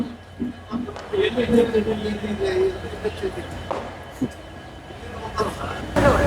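Hampi Express train 16591 pulling out of Hubballi railway station, a low, steady rolling rumble underneath someone talking nearby.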